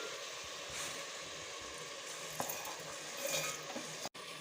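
Tomatoes sautéing in a pan for a Chettinad country chicken curry, a soft steady sizzle with occasional scrapes of stirring, faint and close.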